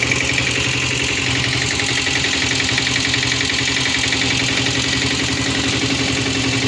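A 1990 Royal Enfield Diesel motorcycle idles with a steady, loud, rapid knocking thump and heavy shaking vibration, running continuously and close by without any talk.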